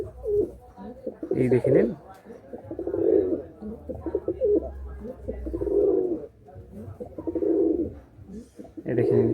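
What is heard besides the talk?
pigeons cooing, Andhra and Madrasi pigeon pair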